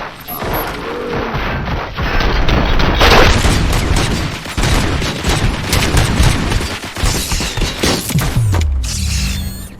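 Dense, rapid gunfire and crashing impacts from the Robocop Rogue City video game, a loud continuous barrage with metallic clatter and booms through most of the stretch.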